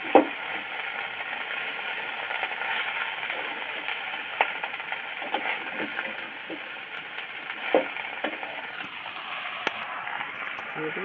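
Vegetables, eggplant and fish are stirred together in a cooking pan with a spatula. Faint scrapes and scattered light clinks sound over a steady low sizzle, with a thin, muffled tone throughout.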